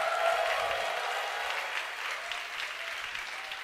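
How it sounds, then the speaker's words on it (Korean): A church congregation at a Sunday worship service bursts into sustained applause, a dense, even wash of clapping that holds steady throughout with faint cheering mixed in. "우리 주님께 영광의 박수 올리겠습니다."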